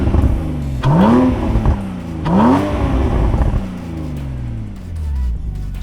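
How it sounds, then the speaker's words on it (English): A 2014 Porsche Cayman S fitted with K&N air filters revving hard, its engine rising in pitch twice with a loud sucking induction whoosh up close, then settling back to a lower drone. "There's also a huge increase in a high-pitched induction noise when you accelerate hard."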